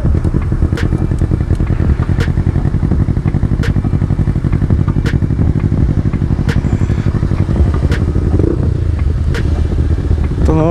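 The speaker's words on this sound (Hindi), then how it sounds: "ये निकले और सामने सनी भैया बूसा पे।" Motorcycles on a group ride, including a Suzuki Hayabusa, engines droning loudly and continuously up close with steady throttle, with faint clicks and clatter over the exhaust noise.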